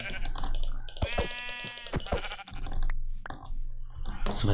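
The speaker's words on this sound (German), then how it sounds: "Jede Menge weiße Schafe." Minecraft Java Edition sheep bleat in short, clear calls among clicks and bursts of game noise, fairly close and loud with no talking.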